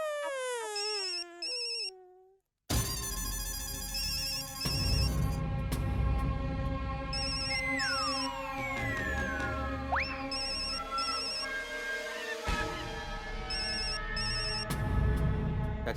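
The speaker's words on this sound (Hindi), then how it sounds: "आपका फोन बज रहा है।" A phone rings with repeated electronic ringtone bursts over busy background sound and music, with occasional swooping tones.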